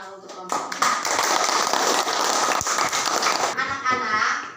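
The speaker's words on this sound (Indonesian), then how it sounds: "Kita beri tepuk tangan untuk kelompok 4." Classroom applause for a student group, many hands clapping in a dense, steady patter that fills the room, with children's voices mixed in beneath it.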